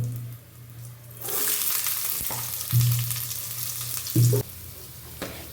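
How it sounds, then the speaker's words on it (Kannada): Chillies roasting in a pan, a steady loud frying sizzle broken by sharp bursts and stirring scrapes, with a constant low hum underneath. "ಫುಲ್ಲು ರೋಸ್ಟ್ ಆಗಬೇಕು, ಆವಾಗಲೇ ಟೇಸ್ಟ್ ಜಾಸ್ತಿ ಮೆಣಸಿನ್ಕಾಯ್ದು"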